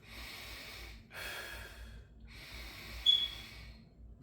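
Slow, deep breaths during a beginner core exercise for the transverse abdominis, two long airy inhale-exhale swells with a brief sharper sniff near the end, close and quiet, with no talking.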